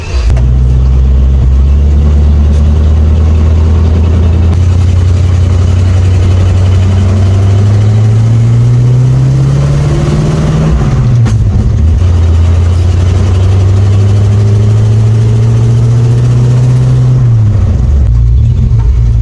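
A car with a freshly rebuilt transmission drives down a back road. Its engine drone is loud and close, with pitch rising under acceleration and dropping at each shift, then climbing again.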